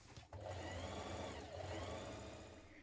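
A sewing machine runs steadily, stitching a shirt yoke along its top edge with a 1.6 cm seam allowance, a continuous close motor whir after a brief start, with no talking.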